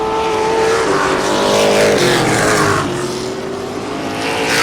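Street stock race cars roar around an oval short track in a dense, loud wall of engine noise, with overlapping engines rising and falling in pitch as cars pass close by.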